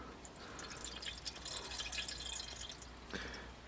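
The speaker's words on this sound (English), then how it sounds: "Let's drain this out." Fuel drains from an injector during flow testing, a steady faint trickle and dripping of liquid with a brief splash near the end, no voices.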